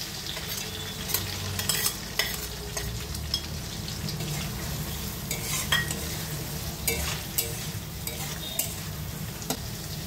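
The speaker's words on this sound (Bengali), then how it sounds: "পেঁয়াজগুলোকে লাল করে ভেজে নেব।" Chopped onions hit hot mustard oil in a kadai, giving a continuous sizzle and crackle with irregular stirring clatters and scrapes throughout, close and fairly quiet.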